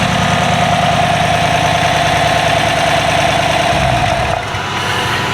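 A truck engine with a dropped lifter runs steadily and loudly close by, a continuous mechanical drone with a tonal whine, its low rumble changing and easing slightly near the end.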